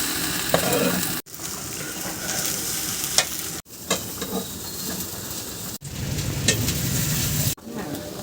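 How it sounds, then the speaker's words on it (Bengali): Rice, about 1.5 kg, is stirred into sizzling spices in a large kadai for khichuri in a village kitchen. Loud, close scraping strokes run over steady frying noise in several separate stretches. "দাও চাল দিলে দাও। মশলার ভিতরে চাল।"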